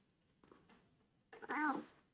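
A pet cat gives a single drawn-out meow near the end, preceded by faint soft rustling in a quiet room, with no talking.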